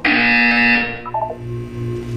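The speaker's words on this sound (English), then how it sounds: "You will hear a buzzer. When you hear the buzzer, look down at the floor." A harsh electronic buzzer in Portal 2 blares loud and close for about a second, then cuts off, followed by a few short tonal blips and a lower hum.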